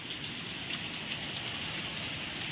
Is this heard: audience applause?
no